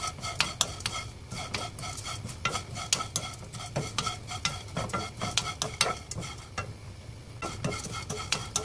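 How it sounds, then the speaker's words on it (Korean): Anchovies dry-roasted in a frying pan with no oil: a spatula scrapes and taps rhythmically against the pan with a faint crackle underneath, a steady run of stirring strokes with a short pause near the end. "프라이팬에 기름 없이 멸치를 볶고 있습니다"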